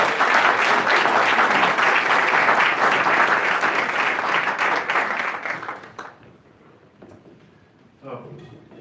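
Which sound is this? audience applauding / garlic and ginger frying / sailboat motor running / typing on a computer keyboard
audience applauding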